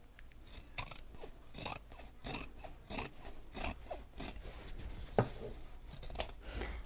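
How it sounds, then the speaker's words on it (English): Scissors trimming fabric seams on a handbag: a series of crisp snipping cuts at an irregular pace, close and fairly quiet, with no talk over them. "And I'm going to trim these seams."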